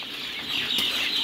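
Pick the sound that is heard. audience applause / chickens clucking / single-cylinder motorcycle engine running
chickens clucking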